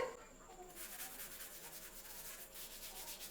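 Bathroom taps are scrubbed with a Scotch-Brite pad, quick close rhythmic scratchy rubbing strokes that start after a brief pause and continue steadily without talk.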